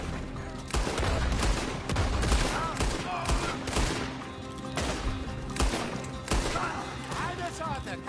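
Red Dead Redemption gunfire: a rapid volley of sharp, close gunshots in irregular bursts, loud and cracking over several seconds, with game voices shouting in between.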